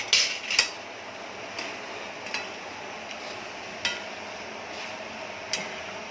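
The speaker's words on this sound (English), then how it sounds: "We'll saute this for just 2 minutes, just to stir fry it" Paneer sautés in a pan for veg jalfrezi, with sparse metal clinks and scrapes of a utensil stirring against the pan over a low, steady hiss, close up and alone.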